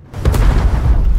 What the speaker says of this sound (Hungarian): És fel is robban.